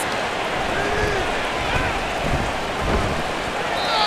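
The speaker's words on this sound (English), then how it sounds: "The rain set to continue as we are underway in the second half" Steady rain hiss in a Madden NFL 24 football game between the Detroit Lions and Baltimore Ravens, a continuous broadband wash with a faint low rumble, heard under a voice talking.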